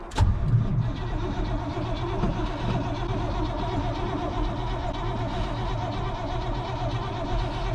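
A cold old truck engine cranks steadily without firing, a continuous close rhythmic churning of the starter after a brief clunk at the start.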